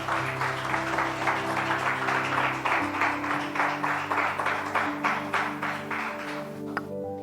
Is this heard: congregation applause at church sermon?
yes